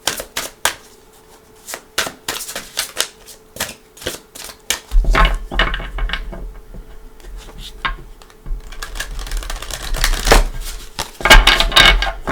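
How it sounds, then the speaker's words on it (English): A tarot deck is shuffled by hand, crisp close riffles and card slaps in quick bursts, with a low hum joining partway through and no talking. "Give it some shuffles."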